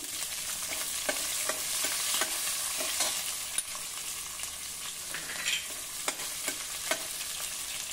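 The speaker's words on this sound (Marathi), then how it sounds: "आता हे सर्व व्यवस्थित तळतळलं की एक मोठ्या आकाराचा कांदा घालू" Sesame seeds and vegetables fry in hot oil with a dense, continuous sizzle. Close stirring scrapes and small clacks of the spatula cut through it now and then, with no voices.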